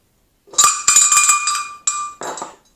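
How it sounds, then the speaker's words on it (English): Several sharp metallic cowbell strikes ring out in an uneven cluster, followed by a couple more clangs, bright and close with short ringing tails. "our summoning sound is cowbell. More cowbell."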